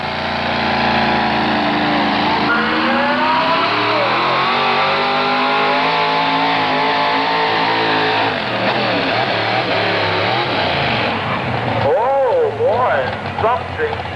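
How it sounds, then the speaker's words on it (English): Four-wheel-drive pulling truck at an NTPA truck pull in Galax, Virginia, its engine roaring loud and sustained at high revs, pitch climbing and wavering, then sagging and surging unevenly near the end. "Dewey Cook winding it up and letting her rip in Galax."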